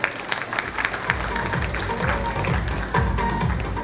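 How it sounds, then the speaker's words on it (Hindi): Applause from a school audience at a Mother's Day celebration, a steady mass of clapping lasting throughout with some voices mixed in. "तो एक बार अपने लिए भी जोरदार तालियां हो जाए"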